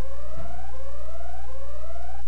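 A video game alarm siren wails in repeated rising sweeps, three cycles in a row, loud and steady over a low constant hum, with no talking.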